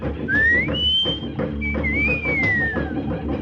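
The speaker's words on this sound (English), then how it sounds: "I'll give her the wolf whistle." A two-note wolf whistle, rising then sliding down, cuts clearly over a busy, noisy crowd scene in an old-time radio mystery drama.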